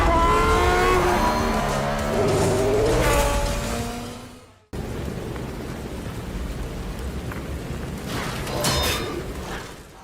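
Racing cars in the Forza Motorsport racing sim for Xbox Series X and S, engines roaring and revving loudly for about four seconds, then a cut to a steadier engine drone with a brief squeal-like burst near the end.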